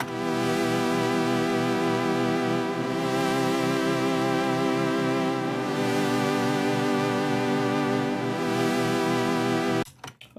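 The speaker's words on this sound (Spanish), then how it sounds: "el pad es Common Saw Pad 1 y suena así solito" Sustained Nexus synth pad, preset Common Saw Pad 1 from the SID expansion, a dense, buzzy saw-wave chord held steadily and loud for about ten seconds before cutting off abruptly, played alone.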